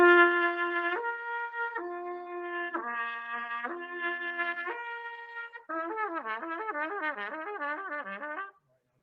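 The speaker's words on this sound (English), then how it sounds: "one of the most important things that we can do are just lip slurs" A brass instrument plays slow lip slurs, each long sustained note stepping between partials in a simple repeating pattern, then a faster wavering run of slurs before stopping into silence; clean, close and alone.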